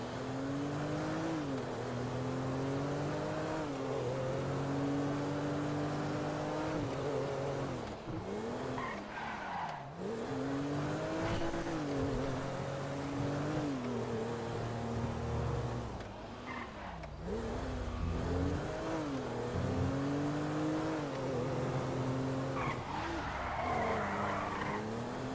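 An Audi drives in GTA with a continuous engine drone that rises and falls as it revs and shifts, joined by squealing tires, loud and steady for the whole stretch.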